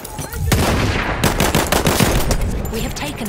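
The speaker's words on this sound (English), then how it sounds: "Machine gun!" Machine gun fire in a Battlefield 1 multiplayer match, loud and close, as rapid bursts of sharp shots crowd together amid battlefield noise for about three seconds.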